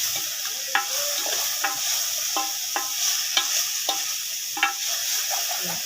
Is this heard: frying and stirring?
yes